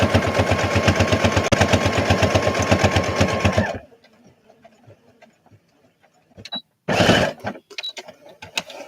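A sewing machine runs a triple straight stitch in a rapid, steady mechanical rattle for about four seconds, stops, then whirs again in a short loud burst with a few clicks in between.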